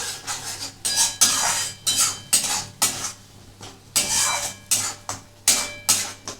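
A spatula knocks and scrapes repeatedly against a pan while duck egg korma masala with garlic powder is stirred and fried, giving sharp rhythmic clatters roughly every half second over a faint low hum, close and clear with no talk.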